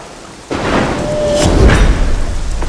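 A loud thunderstorm from a Tamil-dubbed mystery thriller film: heavy rain pours down while a deep thunder rumble swells and rolls on, with no voices.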